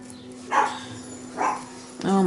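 A dog gives a few faint, far-off barks, spaced about a second apart, over a steady background hum, followed by a louder burst of sound at the end.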